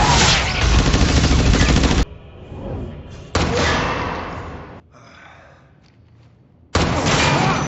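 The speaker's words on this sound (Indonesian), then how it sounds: "Sarge yang sadar John sudah tahu segalanya langsung menembakkan Bioforce gun-nya" A Bioforce gun fires in a film scene, with loud, dense blasts of gunfire-like noise in bursts separated by quieter gaps, including a final burst at the end.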